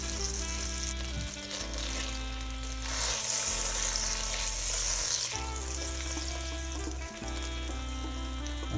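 Butter melting in a pan on a stove at medium-high heat, giving a steady close sizzle and crackle as the pan is shaken around, with a low hum running underneath and no talking.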